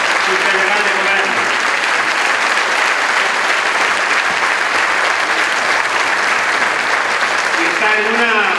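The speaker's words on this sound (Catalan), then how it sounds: "Un fort aplaudiment a don Antonio Lorenzo" Sustained loud applause from a political rally audience at a candidate presentation in Villarreal, thick steady clapping that carries on unbroken, with voices faintly audible at the start and end.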